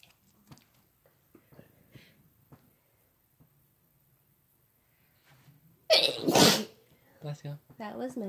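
One loud, wet sneeze bursts out close by after quiet stretches of small sounds and murmurs, followed at once by people talking.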